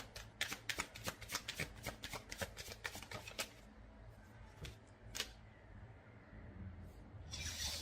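Tarot cards are shuffled in quick, crisp riffles for a few seconds, close and fairly quiet, followed by softer sliding and a final rustle as a card is drawn.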